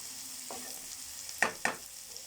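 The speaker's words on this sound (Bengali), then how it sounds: "বিনস আর হালকাভাবে ভাজা হয়েছে, তারপর এটা দেওয়া হচ্ছে।" Carrots, capsicum and beans stir-fry in a pan for fried rice, with a faint, low sizzle and two quick metallic clinks of the stirring utensil close together.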